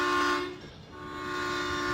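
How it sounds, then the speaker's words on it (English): A long freight train with grain cars passes in the Farming Simulator 17 game, its horn sounding in sustained tonal blasts that dip briefly and return over a steady rumble. "All right, there's the train coming from that direction."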